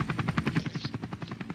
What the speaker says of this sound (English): Shut that helicopter off, Muggy.